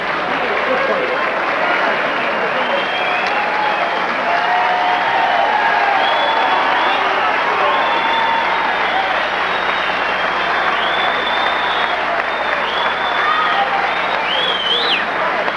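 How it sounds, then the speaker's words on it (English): Boxing crowd at the Sands in 1982 applauding and cheering in a standing ovation after a knockout, a loud, sustained roar of clapping and voices throughout, with a commentator talking over it. "both fighters got a standing ovation"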